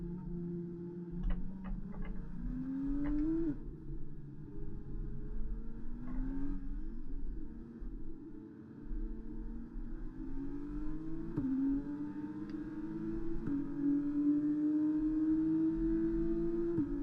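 An F1 car engine drones through a tunnel behind the safety car in the F1 2024 racing game at Monaco. The tone is steady and moderate, with repeated upshifts as the pitch climbs and drops, and there is no talk.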